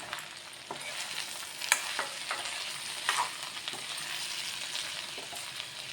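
Ivy gourd curry seasoned with turmeric, chili powder and salt fries in a pan, a fairly quiet sizzle broken by several distinct spatula scrapes and clinks as it is stirred.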